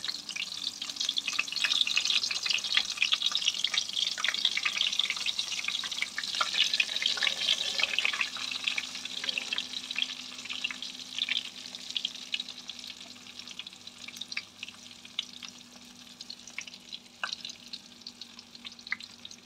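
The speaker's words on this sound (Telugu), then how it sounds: "ఆయిల్ వేడైపోయిన తర్వాత స్టఫ్ చేసుకున్న వంకాయలు ఒక్కొక్కటిగా ఇలాగా నూనెలో అయితే వేసేసుకోవటమే." Stuffed brinjals dropped one by one into hot oil, producing a continuous crackling sizzle with dense spattering pops that gradually settles and softens over time.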